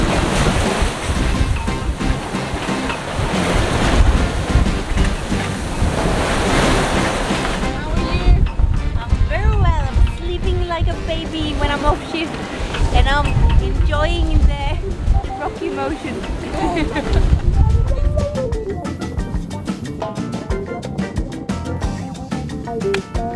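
Strong wind and breaking waves roar steadily around a sailing yacht in the Roaring Forties of the Southern Ocean during the Melbourne to Hobart Westcoaster race, with heavy wind buffeting on the microphone and a voice speaking over it.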